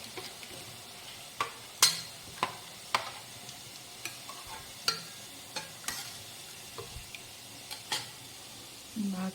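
Food being stirred and mixed in a pan, with a series of sharp utensil scrapes and taps against the metal at irregular intervals over a faint steady sizzle, close and fairly quiet.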